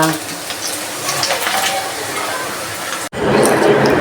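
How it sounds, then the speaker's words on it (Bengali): Papad sizzles steadily in hot oil, a close, rushing hiss with faint crackles that cuts out abruptly and then resumes louder. "এই যে পাপড় ভাজা"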